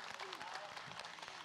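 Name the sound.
audience applause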